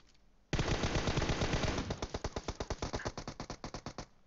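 Automatic rifle fire in PUBG Mobile, a SCAR or SLR, comes as a loud, close burst of rapid shots that starts as a dense roar and then resolves into a steady rattling string of distinct cracks.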